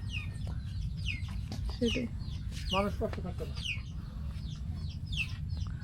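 Chickens on a riverside char farmstead in Sirajganj cluck in short repeated bursts and calls, near and fairly clear over a low rumbling background, while people talk faintly.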